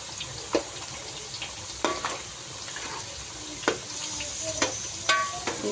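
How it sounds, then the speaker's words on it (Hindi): Potato pieces deep-frying in hot oil in a home kitchen, with a steady bubbling sizzle and occasional sharp clinks of a utensil stirring through the pan, no talking. "देखो आलू फ्राई हो रहे, हल्के ब्राउन हो जाते ना तभी निकाल लेना आप।"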